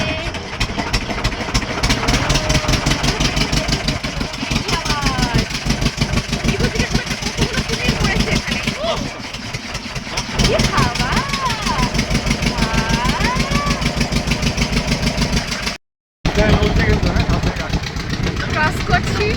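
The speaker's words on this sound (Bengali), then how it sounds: "আরে আমাদের নৌকাটা ছেড়ে দিল।" A boat engine runs steadily as the boat pulls away on a river trip in the Sundarbans, a loud, continuous mid-pitched drone with a brief dropout near the end. People talk over the engine noise.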